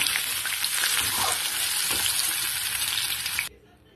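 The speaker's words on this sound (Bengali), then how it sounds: "ভেন্ডিগুলো আমার প্রায় ভাজা হয়ে গেছে" Okra (bhindi) being stirred as it fries in hot oil, a dense close sizzle with light scraping of the spatula, cutting off abruptly near the end to quiet.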